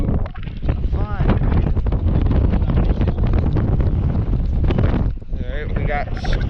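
Strong wind buffets a fishing boat at sea off the Turks and Caicos, roaring loudly and continuously across the microphone, with voices talking over it.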